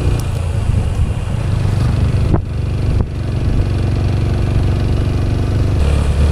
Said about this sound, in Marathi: आम्ही 2 बाईक घेऊन आता निघालो आहे आणि प्रत्येक गाडीवर ट्रिपल सीटच आहोत